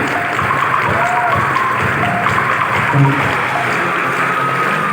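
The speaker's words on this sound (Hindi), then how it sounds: "अभी तालियां रुकनी नहीं चाहिए" A large audience claps steadily and loudly throughout, a continuous wash of applause at a motivational talk, with faint crowd murmur underneath and no break in the sound.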